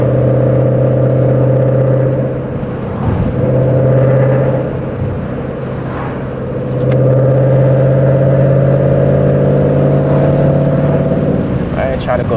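Loud Ford Mustang GT engine accelerating hard on a straight road, a deep droning roar that builds, eases briefly mid-run, then surges again, heard from inside the car.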